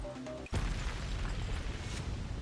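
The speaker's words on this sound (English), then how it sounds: "Explosion." A sudden explosion in the Neural Cloud video game, set in a power plant: a sharp burst cuts off the preceding tones, followed by a sustained loud rumble and roar that fills the rest of the moment.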